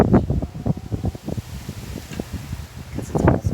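Gusty wind buffets the microphone outdoors during hand spinning of wool, in uneven rumbling pulses, with rustling mixed in.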